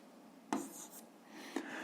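A pen writing on paper while working an algebra exercise gives faint, close scratching strokes with two small taps as the pen touches down.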